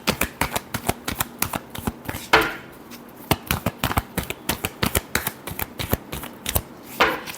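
Tarot cards being shuffled, a rapid run of crisp riffling flicks and slaps in a steady rhythm with a couple of louder bursts, close and alone.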